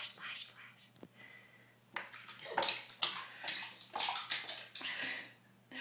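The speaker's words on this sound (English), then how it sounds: "Splash, splash, splash." A baby splashes bath water in repeated bursts of sloshing and spattering, with quiet pauses in between. A soft voice is heard at moments.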